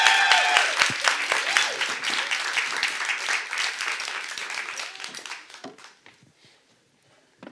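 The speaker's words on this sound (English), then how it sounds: "she deserves her clap hands" Audience at a film Q&A event applauding, a dense burst of many hands clapping that gradually thins and fades away over several seconds, with a voice briefly audible early on.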